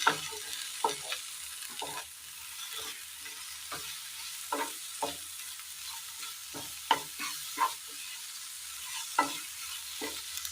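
Roasted spice powders are stirred in a pan for a tender coconut curry. Repeated scraping strokes land at an irregular pace over a quiet, faint sizzle, with no talking.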